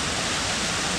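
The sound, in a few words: waterfall by a river in the Ansel Adams Wilderness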